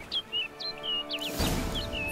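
A bird chirps in The Witcher, a handful of short bright tweets spaced across two seconds, joined by a burst of rustling wind-like noise partway through.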